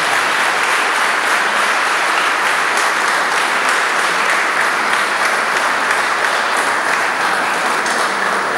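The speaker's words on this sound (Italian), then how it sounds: "Facciamo un applauso a questa nuova." Wedding guests inside a church applaud the newly married couple, a loud, dense wash of clapping that holds evenly from start to finish.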